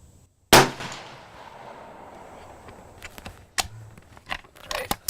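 A rifle fires a single sharp, loud report while a riflescope is being sighted in at a range, then a faint tail and several light clinks and handling clicks, with no talk.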